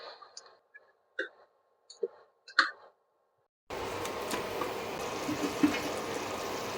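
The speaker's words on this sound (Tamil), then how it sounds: "அந்த தண்ணி தான் சேர்த்துக்கிறேன்." Water saved from boiling the meat is poured into a village-style country chicken curry, giving a steady, fairly loud splashing wash. It follows a few seconds of brief speech-like sounds.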